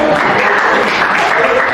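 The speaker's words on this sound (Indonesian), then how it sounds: "Oke, tepuk tangan" Students clapping in a PE class on mats, a brief loud burst of close, dense applause with a little talk mixed in.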